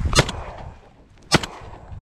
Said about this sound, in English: Good shot, Bri.